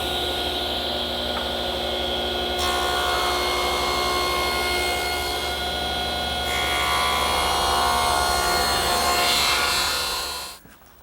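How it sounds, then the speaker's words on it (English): A table saw cuts beveled molding for a breakfront cabinet, its blade whining loud and close in one sustained pass before spinning down at the end. "All I need to do that is the table saw."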